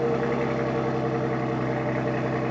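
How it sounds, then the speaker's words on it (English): A car engine runs steadily at a fast, even idle after a cold start, a constant close rumble with no talking over it. "I'm going to hear the cold start."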